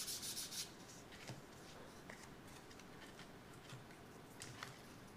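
Light sanding of the rudder on a Carbonette 8 model airplane, a soft continuous rubbing hiss with a few brief scratchy strokes, close and very quiet, no voices.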